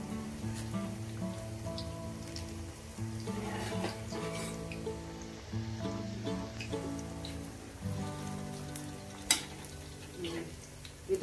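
Spinach pakoras drop into hot oil and fry with a steady, dense bubbling sizzle, with a faint tonal hum running underneath throughout.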